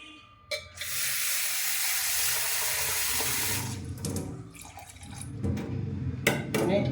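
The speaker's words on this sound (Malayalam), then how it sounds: "ഇനി നമ്മളിതിനകത്തേക്ക് ആവശ്യമായ വെള്ളം ഒഴിച്ചു കൊടുക്കുന്നു" Water pours and splashes into a pot of fish curry being made with ground coconut, a loud continuous gush lasting a few seconds, then settling into softer sloshing and clinks.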